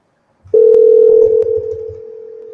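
A loud electronic telephone tone starts abruptly and holds steady, gradually softening, with a few faint clicks underneath.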